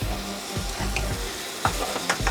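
Ground meat browning in a pan with onions and garlic gives a dense, steady sizzle, with rhythmic spatula scrapes and a couple of brighter knocks near the end, heard up close without any talking.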